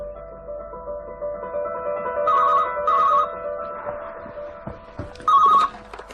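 A telephone rings in a quiet room, its bursts of bright bell tone repeating at intervals. A steady hum runs underneath and a few soft knocks come between the rings.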